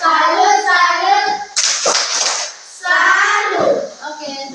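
Schoolchildren in a primary classroom chant and clap through the 'tepuk salut' routine, their young voices loud and close, with a burst of clapping in the middle of the chant.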